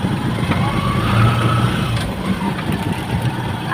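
A new motor tricycle idles nearby in a steady low, rumbling hum that stays constant throughout, with some faint voices in the background.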